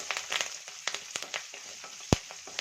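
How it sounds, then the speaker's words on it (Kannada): Curry leaves and broken Byadgi chillies fry in a pan while puliyogare powder is prepared, crackling and sizzling in sharp bursts with utensil scrapes, close and fairly quiet, with no talk. "ಕರಿಬೇವು ಹಾಕೋತಾ ಇದ್ದೀನಿ ಬ್ಯಾಡಗಿನ ಒಂದು ಮೂರು ಮುರಿದ್ಬಿಟ್ಟು ಸೇರಿಸ್ಕೊತಾ ಇದ್ದೀನಿ ಈಗ ಚೆನ್ನಾಗಿ ಮಿಕ್ಸ್ ಮಾಡ್ಕೊಳ್ಳೋಣ ಚೆನ್ನಾಗಿ ಫ್ರೈ ಆಗಲಿ"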